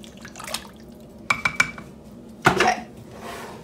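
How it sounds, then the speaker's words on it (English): Spoon scraping and clinking in an Instant Pot of chicken noodle soup, a few close metallic taps and knocks mixed with soft liquid sloshing, with no voices. "Just gonna give that one quick little stir to make sure there's no bits stuck to the bottom here."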